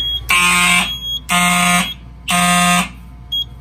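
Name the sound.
Simplex fire alarm sounding, triggered with a magnet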